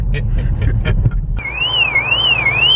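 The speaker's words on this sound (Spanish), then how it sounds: "Sin batería, entonces está sonando la alarma" A car alarm sounds from a vehicle with a dead battery, a loud warbling siren that starts abruptly after a moment of muffled voices and rumble, then rises and falls steadily.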